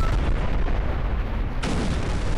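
Heavy bombing explosions in the video game Garry's Mod, a continuous loud rumbling barrage of booms with a fresh blast landing partway through, no talk.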